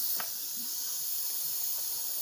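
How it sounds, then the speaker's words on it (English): Steam hisses steadily from an Instant Pot's pressure release as a pot of vegan split pea soup vents, a constant bright rush with no talking. "You can hear the steam releasing."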